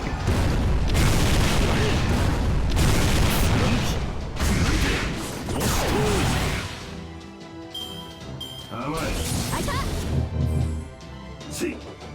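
Cannon blasts from Napoleon's attack in the game Fate/Grand Order, heavy booming bursts that repeat several times under loud music and voiced game dialogue, ending in a noisy crashing stretch.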